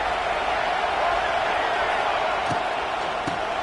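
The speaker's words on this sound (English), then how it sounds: "This crowd bringing the energy and noise early." Broad roar of a large stadium crowd at an American football game, steady and distant, with a couple of thuds and faint voices underneath.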